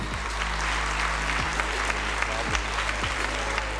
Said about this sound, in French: je vais vous demander un tonnerre d'applaudissements pour Noé